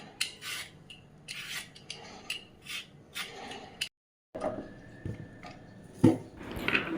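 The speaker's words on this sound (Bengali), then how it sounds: "প্রথমে খোসাটা ছাড়িয়ে নেবে।" Raw green mango being peeled by hand, giving a series of short close scraping, rasping strokes in an irregular rhythm, with a brief silent gap partway through and a few sharper knocks near the end.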